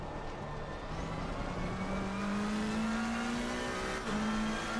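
A GT race car on a tyre-warming lap at the Hungaroring in Assetto Corsa Competizione holds a steady engine drone, its pitch climbing slowly through a gear before a short dip and rise, loud and close with no voices.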